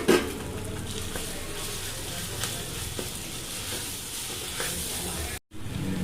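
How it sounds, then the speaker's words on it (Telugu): Hot oil tempering with curry leaves sizzling steadily and loudly close by as coconut and raw mango chutney goes in, with light stirring throughout. "ఇందులో మనం కొబ్బరి చట్నీ వేసుకుని పోపు పెట్టుకుందాం."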